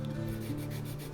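Steady, continuous abrasive rubbing from sanding bushcraft knife handle scales being prepared for assembly, a close, even scratching texture with no talk.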